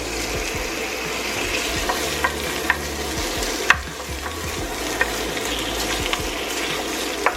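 Onions fry in olive oil in a pot for stir fry noodles, a steady close sizzle broken by a few sharp clicks and scrapes of a stirring utensil, without speech.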